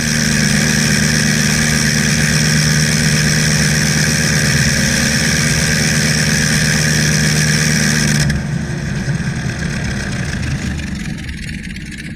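A vintage single-cylinder aircraft engine of the kind that powered the Nieuport 17 and Sopwith Camel runs loud and close with a steady, droning roar, then its tone shifts to a rougher, lower running note partway through.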